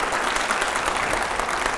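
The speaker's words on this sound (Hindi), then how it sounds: "जोरदार तालियां हो जाए इस बारा" Dense, loud applause from an audience at a televised Sachin Pilot interview fills a brief moment without pause.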